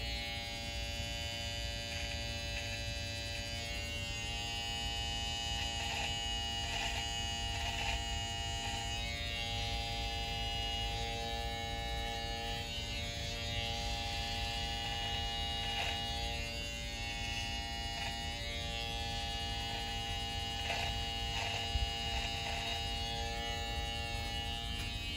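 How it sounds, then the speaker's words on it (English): Electric beard trimmer buzzing steadily while trimming the soul patch area of a Van Dyke beard, a close, continuous hum with slight changes in pitch and no talking, lasting the whole stretch. "I'm going to trim up a little soul patch area."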